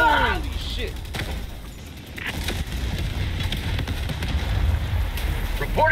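Grenade blast and gunfire in the video game Helldivers 2, a dense rumbling barrage of explosions and rapid shots filling the scene, with shouted voices briefly at the start.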